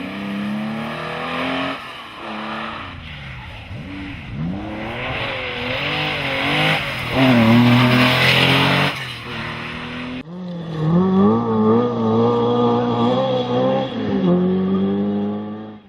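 Big historic Porsche rally car tearing through a stage, its engine revving hard with rising and falling pitch through gear changes, loud and close, then a second sustained high-revving run.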